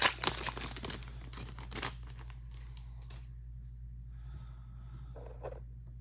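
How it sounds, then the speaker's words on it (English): A cat plays inside a plastic bag, the plastic crinkling and rustling in scattered bursts close by, loud at first and then softer, over a constant low electrical hum. "he's playing with a plastic bag and he's inside of it."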